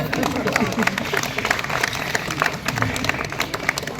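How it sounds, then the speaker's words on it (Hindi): Applause at a Republic Day event, a moderate and somewhat uneven crowd clapping with sharper individual claps, and murmured voices mixed underneath. "इसमें तो तालियां देनी पड़ गई"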